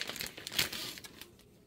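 A plastic bag crinkling and rustling up close in a kitchen, in short bursts of crackly handling for under two seconds.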